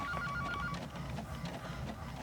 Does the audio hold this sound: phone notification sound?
yes